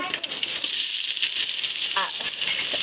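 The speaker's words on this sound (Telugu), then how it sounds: "ఆయిల్ హీట్ అయిందండి ఆయిల్ నెయ్యి ఇప్పుడు బిర్యానీ దినుసులు వేసుకోవాలి" Whole biryani spices such as cloves and bay leaf are dropped into hot oil and ghee, giving a close, continuous bright sizzle and hiss from start to finish with a few faint clicks.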